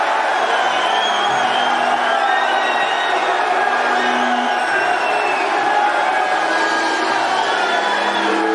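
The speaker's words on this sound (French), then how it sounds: "applaudissez très fort" Concert crowd at a live show in Kinshasa cheering and shouting, a loud continuous roar of many voices with whoops, close and steady throughout.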